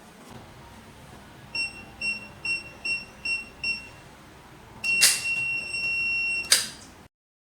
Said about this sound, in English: A long beep sound will be heard.